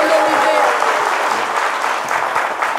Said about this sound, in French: Applaudissez pour Ahmed Bakayoko